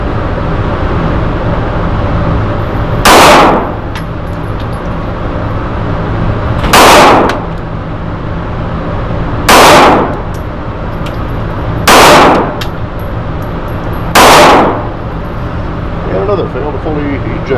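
Five sharp .380 pistol shots ring out at spaced intervals at an indoor shooting range, each a loud crack over a steady hum of ventilation noise.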